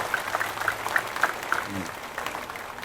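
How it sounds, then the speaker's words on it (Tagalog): An audience at a city hall recognition ceremony for a police officer applauds, with a scattering of claps and a low crowd murmur heard at moderate distance, with a voice briefly heard in between. "Pwede ba palakpakan natin ng pinakamalakas yung palakpak?"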